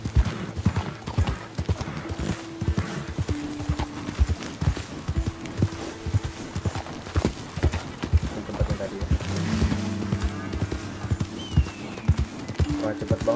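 A horse gallops in Red Dead Redemption 2, with steady rapid hoofbeats pounding throughout, loud and close, while a person talks over them.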